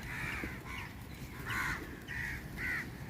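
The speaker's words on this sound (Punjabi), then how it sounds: "ਕਾਂ ਹੈ" A crow caws several times in short, harsh bursts against a steady background hum, sounding moderately distant.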